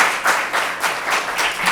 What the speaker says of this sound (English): So I just want to give them another round of applause for all the work they've done.